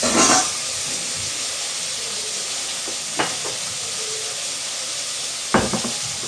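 Bitter gourd sautéing in oil with a little salt gives a steady, even sizzle and hiss, broken by a few brief scrapes of stirring, with no voices.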